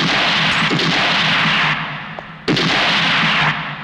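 Two loud gunshots, fired at a picture in a Hindi action film, each a sharp crack with a long reverberant tail, spaced about two seconds apart, with no talking.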